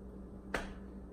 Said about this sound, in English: The magic finger snap doesn't really work when cats are involved.